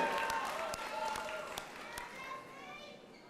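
Applause from a commencement audience honoring graduates, a dense wash of many hands clapping at moderate distance, with a few sharper nearby claps standing out early before the sound gradually thins and fades.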